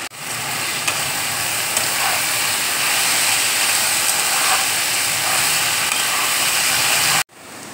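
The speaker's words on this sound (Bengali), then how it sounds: "কারি পাতা দেখো কুচিয়ে নিয়েছি, কারি পাতা দিয়ে দিচ্ছি।" Chopped curry leaves go into a hot pan and set off a loud, steady hiss of sizzling oil that holds for about seven seconds before cutting off abruptly.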